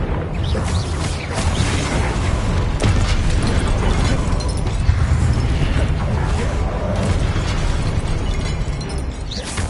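An Expelliarmus spell is cast in Hogwarts Legacy, heard as a dense series of punchy magical bursts and booms over a constant rumbling battle bed.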